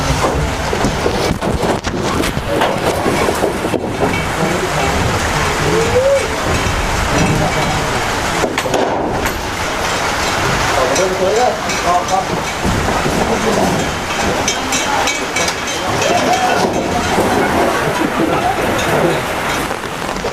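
Steady rain falls outdoors on a cold day, a dense continuous wash of noise with wind buffeting the microphone, heard alone without talk throughout.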